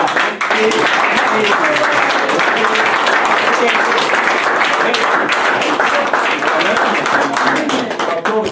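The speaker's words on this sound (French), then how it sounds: "Et nous allons vraiment acclamer encore très fort" A church congregation claps and cheers loudly, with dense sustained applause and voices shouting throughout, close and continuous.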